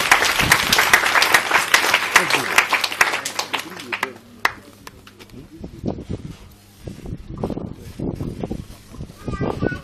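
A church congregation applauding, dense clapping for the first few seconds that thins and fades, followed by a voice speaking over the room.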